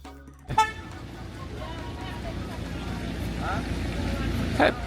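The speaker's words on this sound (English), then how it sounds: "it's also funny that the beep from a car horn startles Adam for several seconds." A short car horn toot sounds near the start, followed by a steady wash of traffic and engine noise with faint voices.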